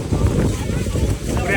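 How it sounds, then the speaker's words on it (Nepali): Wind gusts against the microphone beside Niagara Falls just before a boat ride, a loud low rumble that runs the whole moment alongside a voice. "पुरै हावा चलिरहेको छ."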